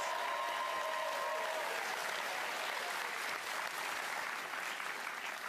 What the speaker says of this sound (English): Ladies and gentlemen, round of applause, Stephen K. Amos!